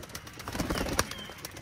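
Tula pigeons feed together and give soft, brief cooing and light fluttering sounds, faint and close, in a short stretch with no talk.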